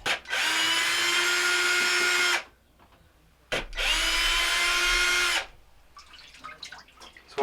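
A power drill whirs in two steady bursts of about two seconds each, close and loud, as it removes the screws from the cover of a Maytag MTW6700TQ1 washer, with small clicks and handling noises in the pauses.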